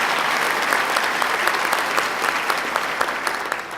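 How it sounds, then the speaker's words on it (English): Steady audience applause for Dottie Gallagher-Cohen at a New York State announcement of a high-tech manufacturing complex in Buffalo, dense continuous clapping from a sizeable crowd throughout, with no talking over it. "Let's give her a big round of applause for all the great work she's doing."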